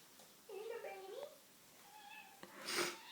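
Small kittens meowing, with a drawn-out wavering call followed by fainter, higher mews. The sound is quiet and close, with some rustling at the end.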